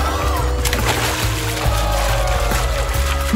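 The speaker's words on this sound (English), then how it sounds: "Oh no! It's overflowing!" An overflowing toilet spills water in a continuous pouring, splashing wash, loud and steady throughout under background music.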